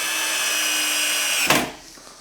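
A power drill drives 4mm by 20mm dome-headed screws into a mobile cabinet, a loud steady whir running for about a second and a half before stopping abruptly with a thud as the screw seats, then a faint tail.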